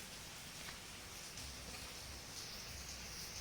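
Steady rain falls outdoors during a monsoon spell, a continuous soft hiss of drops on surfaces that holds at an even level throughout with no speech.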